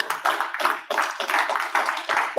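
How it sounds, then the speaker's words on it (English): A crowd claps steadily in sustained applause, dense overlapping hand claps filling the space without a break. "Let's give him a round of applause as he makes his way up."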